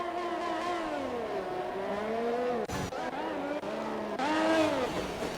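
Ferrari Formula 1 cars race around the Monaco street circuit in a video game, engines screaming at high pitch and sweeping up and down through gear changes, with a brief passing roar midway and a louder surge near the end.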